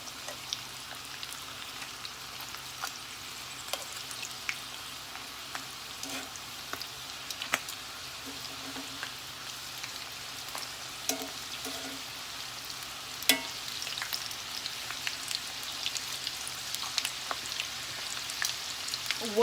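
Ground beef tacos pinned shut with toothpicks fry in a pan of hot oil, making a soft, steady sizzle scattered with small pops and crackles. No one speaks.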